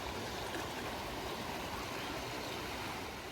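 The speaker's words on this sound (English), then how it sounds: "this is the same stream that feeds the swimming pool, flows through the swimming pool effectively." A stream near Lantern Pike, the same one that flows through a swimming pool, rushes steadily with a continuous close, even wash of flowing water and no voices.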